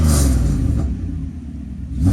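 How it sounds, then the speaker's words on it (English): A 1995 Mercedes W140's engine revs up close by with a deep rumble, then settles back toward idle before climbing again at the end; loud and alone, no talking. "Let's go ahead and give it some revs."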